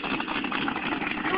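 A 1000 hp supercharged Chevy 350 V8 fitted in a BMW 3 Series idles with a steady, loud, rough mechanical drone that continues without a break for the whole moment, close to the listener.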